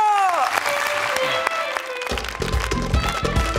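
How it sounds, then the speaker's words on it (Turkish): Studio audience applause on a Turkish talk show welcomes an oriental dance guest: a steady wash of clapping from a crowd, mixed with sustained tonal music throughout. "Kocaman alkışlarla Tanyeli geliyor."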